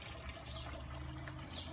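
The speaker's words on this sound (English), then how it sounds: "That's because the water being pumped from the fish pond" Water pumped up from a koi fish pond spills into an aquaponics grow bed, a soft steady trickle and flow under a low continuous pump hum, with no talking.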